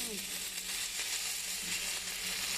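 Chana dal, curry leaves and turmeric fry in hot oil for gongura pickle, giving a steady, even sizzle and crackle throughout, close and alone without talk.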